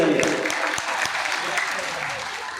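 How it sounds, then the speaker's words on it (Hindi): Steady, vigorous clapping from an audience at a Hindi religious discourse, dense and close with a few sharper claps standing out, a faint murmur of voices underneath. "जोरदार ताली बजाइए।"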